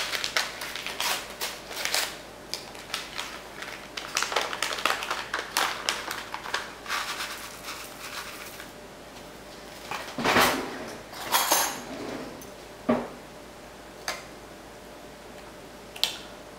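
Spoon mixing onion soup mix into pork in a crock pot, a run of quick light clicks and taps for about eight seconds, then a few sparse louder scrapes and knocks against the pot.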